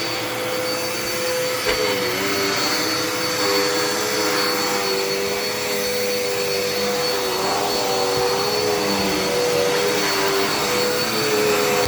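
A Dirt Devil Endura Reach vacuum cleaner runs steadily and loudly throughout, a constant whining motor drone with a high pitched tone and no talking.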